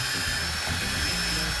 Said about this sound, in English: This is an inexpensive little Warrior palm sander from Harbor Freight